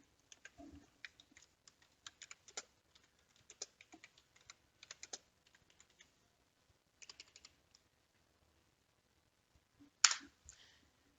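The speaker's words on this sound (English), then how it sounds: "Let me type it out." Fingers type on a computer keyboard in quiet, irregular bursts of soft clicks, pausing for a few seconds before a sharper final keystroke cluster near the end.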